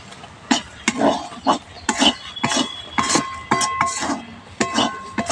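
A spoon scraping and clinking against a pan while masoor dal chorchori is stirred along the bottom, with coriander leaves added; repeated irregular clinks and scrapes, close and fairly loud, no talk.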